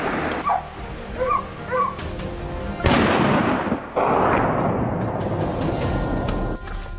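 Gunshots ring out during a wild boar hunt in a frozen winter forest, with sharp loud blasts booming and rolling into the cold woods, while dogs bark and yip in bursts in between.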